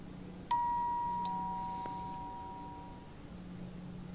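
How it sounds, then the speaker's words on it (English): A single doorbell chime in a video game rings out clearly, a bright ding followed by a second tone, then a long ringing decay fading into quiet room ambience. "I should ring the bell and see if someone's there."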